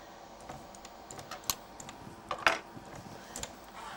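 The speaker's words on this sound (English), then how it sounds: "Go on, type me something in." Keys tapped on a computer keyboard during a graphics paintbox demonstration, a sparse, uneven run of soft clicks with a couple of sharper strokes, fairly quiet against a faint room hum.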